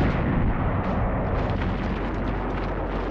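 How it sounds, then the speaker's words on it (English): Dense, continuous battlefield roar of German 88mm artillery fire, with heavy booming and rumbling blasts merging into a loud, sustained barrage throughout. "Rommel's panzers and deadly 88mm guns."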